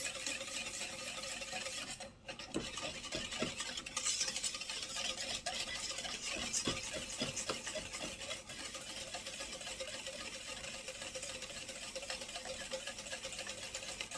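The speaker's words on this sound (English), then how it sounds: "So I'm going to just start whisking this." Egg whites being whisked in a bowl give a steady, fast scraping and rubbing rhythm of whisk against the sides, close and continuous with no talk.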